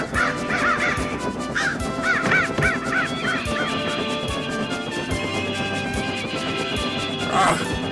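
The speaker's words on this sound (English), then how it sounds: "A thick black cloud of birds formed above the railway line." A thick flock of black birds caws harshly and repeatedly as they dive in front of a train on a railway line, the calls overlapping above a steady rumbling background.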